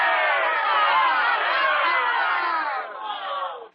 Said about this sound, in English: Let me hear, for our good counselors,